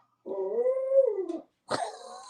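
A dog lets out a long, drawn-out moaning howl with a growly edge, then a shorter second cry, close and clear with no talking.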